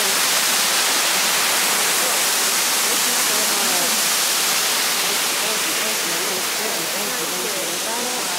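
A smaller, gentler waterfall at a Dominican Republic vacation spot, giving a steady broadband rush of falling water, close and constant through the clip, with faint voices in the background.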